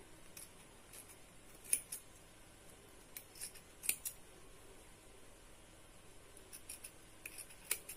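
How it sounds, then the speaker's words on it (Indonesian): Sharp scissors snip through satin ribbon for a handmade flower decoration, several crisp isolated cuts spaced out over a quiet room. "Coba kita potong 4 dulu. Seperti ini. Kita gunting."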